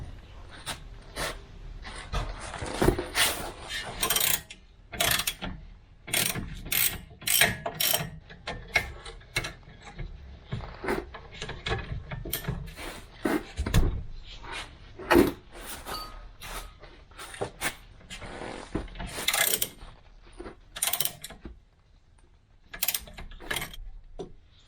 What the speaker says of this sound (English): Let me grab the ratchet and I'll see if I can figure out a way that you guys get a decent angle on that